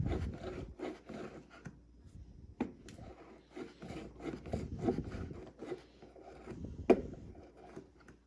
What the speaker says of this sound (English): Scrape it, scrape it.